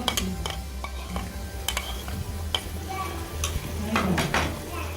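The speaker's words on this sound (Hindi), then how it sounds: "इसको हम अच्छे तरीके से हिला देते हैं ताकि ये मिक्स हो जाए।" A spoon scrapes and clinks repeatedly against the pot while onion paste and red chili powder are stirred into sizzling chicken korma, the stirring strokes irregular and close over a constant frying hiss, with no talking.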